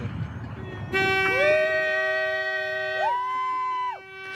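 A boat horn at a canal lock sounds a long, loud, steady blast lasting about three seconds, with a rich tone that swells and wavers before cutting off, following a stretch of low background rumble.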